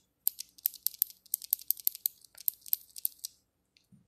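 Blue switches on a T-Dagger Corvette mechanical keyboard clicking close to the microphone, a quick irregular run of sharp crisp clacks, then a short quiet pause and a couple of faint taps at the end.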